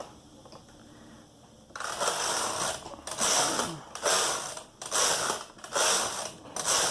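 A knitting machine carriage sweeps back and forth across the needle bed in several rhythmic passes, each a loud ratcheting clatter separated by brief pauses, close and alone.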